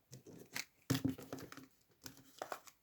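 A deck of tarot cards is cut by hand, giving a few quick papery riffles and soft slaps in short bursts, close and fairly quiet, with no talking.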